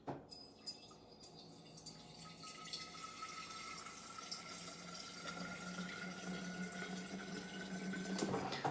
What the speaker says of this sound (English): One day I was filling up my water bottle, and I was like, that sounds like a pretty cool riser.